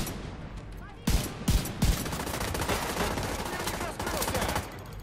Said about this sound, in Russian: а мы начинаем вот так отстрел.